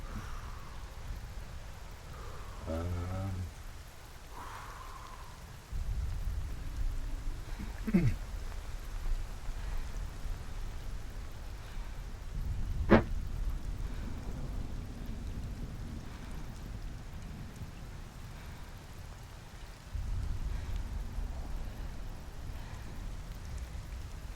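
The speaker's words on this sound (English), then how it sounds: "This rain is not letting up." Steady rainfall with low rumbling thunder in the video game Cairn, punctuated by a few sharp cracks and thuds, continuous throughout.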